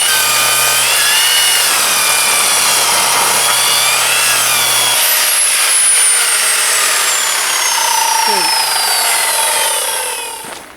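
A power saw with a silicone-coated blade cuts through deck wood close up. A loud, steady, grinding whine holds for about ten seconds, shifts in pitch partway through, then tapers off as the cut finishes.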